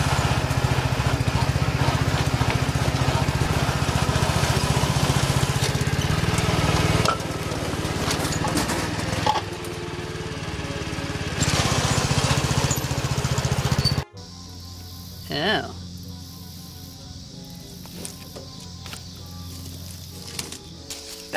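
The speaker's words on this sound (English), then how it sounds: "What if I just try to plow over that with my lawnmower?" A lawn mower engine roars and rattles as it chews over metal debris in a yard, the pitch dropping and sputtering before it settles into a quieter idle.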